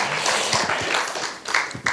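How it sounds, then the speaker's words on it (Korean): Audience in a 2022 public science lecture hall clapping for themselves, a dense, fairly steady wash of many hands over about two seconds, with a few sharper claps standing out near the end. "본인을 위해서 박수 한번 하겠습니다"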